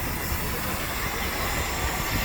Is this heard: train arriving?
yes